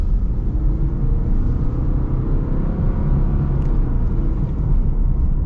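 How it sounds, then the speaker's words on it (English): A 2024 Subaru Crosstrek Wilderness accelerates, heard from inside the cabin as a steady, loud low engine and road rumble that holds even throughout, with no voices. "Okay, we'll get kind of an acceleration here."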